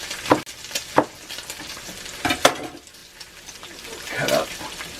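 Bacon sizzles in a cast iron pan under a few sharp clinks and scrapes of a utensil, the frying hiss soft and steady between the louder knocks.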